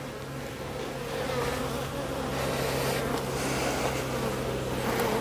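Dense, steady buzzing of a strong honeybee colony crowding all the hive frames, a continuous close hum with no talk.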